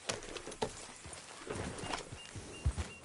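A horse gallops in Red Dead Redemption 2, its hooves clopping in quick, uneven beats close by over outdoor ambience with faint birdsong.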